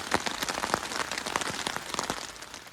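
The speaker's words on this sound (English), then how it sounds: "It's absolutely chucking it down." Rain pours hard onto a 3x3 tarp shelter in woodland, a loud, dense drumming with scattered heavier drips popping close overhead, no voices.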